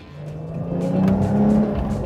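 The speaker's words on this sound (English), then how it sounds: "There's just something so sultry about the song a Porsche Flat 6 sings, and this 3-liter is no exception" Twin-turbo 3-liter flat-six of a 2020 Porsche 911 Carrera S, a steady mid-level engine drone swelling slightly in the middle with a low, sustained growl, no talking.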